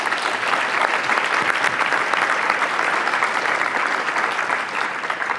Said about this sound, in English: So just a round of applause for our presidents that are here and all the presidents on your campuses.